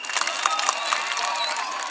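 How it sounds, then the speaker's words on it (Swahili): A crowd at a Kenya Kwanza political rally in Nyaribari Chache applauds Faruki Beti, with dense, steady clapping and crowd noise that continues throughout without pause. "Makofi kwa Faruki Beti"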